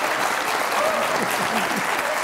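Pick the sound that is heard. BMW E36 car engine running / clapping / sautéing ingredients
clapping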